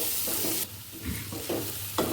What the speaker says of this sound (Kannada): ಸಣ್ಣದಾಗಿ ಹೆಚ್ಕೊಂಡಿರೋ ಈರುಳ್ಳಿನ ಹಾಕ್ತಾಯಿದ್ದೀನಿ. ಚೆನ್ನಾಗಿ ಬಾಡಿಸ್ಕೊಳ್ಳೋಣ